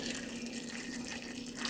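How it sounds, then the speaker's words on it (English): Water runs steadily from a tap into a cooking pot of potatoes for soup, a continuous close splashing fill with no talk. "all you want to do is just cover this with water"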